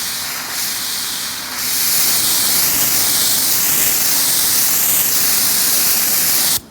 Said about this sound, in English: that I'm doing it with a pressure washer